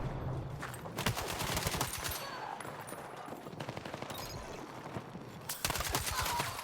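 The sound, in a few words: gunfire in a gunfight, video game Battlefield 6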